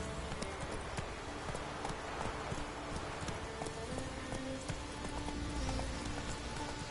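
Steady clip-clop of the horse Roach's hooves in the Witcher video game, a continuous trotting rhythm over a dense bed of ambient game sound with wind, loud and unbroken with no talking.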